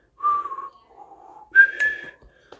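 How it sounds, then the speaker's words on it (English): Soft, gentle whistling of a melody, a few sustained notes rising and falling, quiet and close with no talking. "It's like a really soft whistle."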